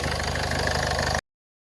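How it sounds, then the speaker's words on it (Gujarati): A Ford diesel car engine idles with a steady, close, low rumbling vibration for about a second before cutting off abruptly. "આ ફોર્ડ આ લોગાની કિંમત હતી, એન્જિનની કિંમત હતી, ડીઝલ એન્જિનની વાઇબ્રેશન"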